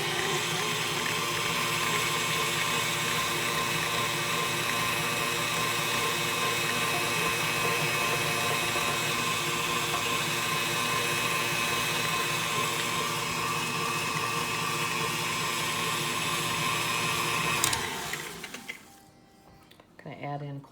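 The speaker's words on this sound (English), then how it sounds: "You want to start your mixer on slow, because if you start it too fast, it'll all splash all over the place." Electric mixer beating a thick batter for a tomato-and-cold-water cake, a steady continuous motor whir with a rattling edge running loud and close for about seventeen seconds, then cutting off abruptly into near-quiet.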